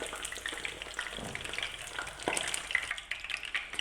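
Boiled eggs shallow frying in oil for an egg korma, a constant crackling sizzle with scattered pops and spatters, fairly quiet and close, no talking.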